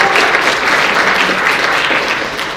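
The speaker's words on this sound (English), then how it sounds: "Let's give contestant number 9 a big round of applause here, you guys." Dense, steady applause from the audience at a school spelling bee honours a contestant. The clapping stays loud and continuous throughout and fades slightly at the very end, with no voices over it.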